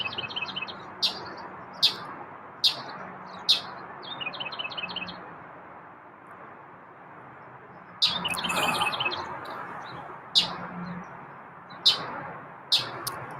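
Small birds chirp in quick bursts of high tweets, repeating every second or so over soft background hiss, with a busier flurry of calls midway.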